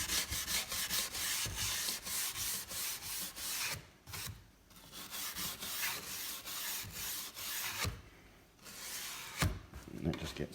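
A very soft copper-bristle detail brush scrubs back and forth over a wood surface with polyurethane finish, giving a steady rhythmic rasping rub close by, with a few brief pauses between strokes.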